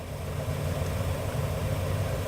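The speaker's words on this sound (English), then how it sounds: "So we're going to have the engine running for all of our testing." A car engine idles steadily with a low, even rumble at a constant moderate level while halogen and HID headlights are tested against a wall. No one speaks.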